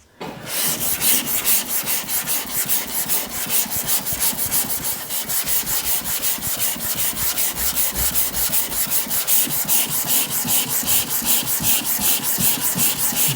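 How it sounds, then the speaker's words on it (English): A small sander works over body filler on a Citroen C1, making a close, continuous abrasive rasp with quick rhythmic pulsing that carries steadily for about thirteen seconds, with no talking. "I'll get in there with a little sander and finish it all off"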